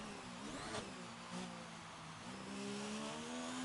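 An F3 race car in a racing video game at the Brazil circuit brakes into turn 1, its engine tone dropping in steady downshifting sweeps with a sharp blip near the start, loud and continuous with no talk.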